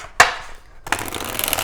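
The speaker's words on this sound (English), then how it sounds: "Go ahead and get a shuffle in here." Rider-Waite tarot cards are shuffled close by: one sharp riffle snap, a pause, then a quick run of papery flicks and slides.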